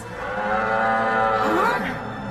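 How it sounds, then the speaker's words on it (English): An ox lows in one long, loud, sustained moo with a wavering tone, heard alone with no talk over it. "I think that's an ox."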